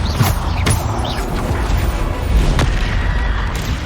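A Bombarda spell explodes in the video game Hogwarts Legacy, giving booming blasts and sharp cracks amid dense, continuous combat noise. Several punchy impacts land close and loud.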